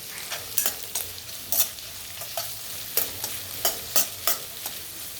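Onions frying in a pan with a steady sizzle, broken by repeated scraping clatters as a spoon stirs them at an irregular rhythm.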